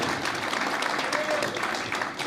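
A crowd claps for the O'Keeffe family at a festival launch night, and the applause holds dense and steady throughout.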